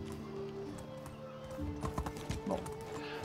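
Horse hooves clip-clopping in the medieval game Medieval Dynasty, a steady run of close, moderately loud hoofbeats with a brief whinny-like note partway through, set over low in-game ambience.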